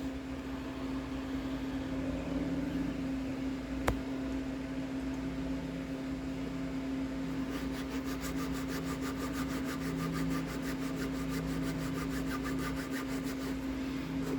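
Wet sanding of primer on a red plastic Mandalorian helmet, a steady rubbing and scraping texture over a constant low hum, with faster rhythmic strokes in the latter half and no talking.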